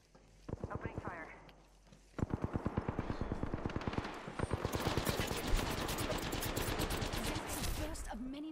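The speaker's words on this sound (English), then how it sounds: "Opening fire." Rapid bursts of automatic gunfire in the battle royale game Apex Legends, starting with a short volley and then a long, continuous stream of loud shots, with game voice lines and other effects mixed in.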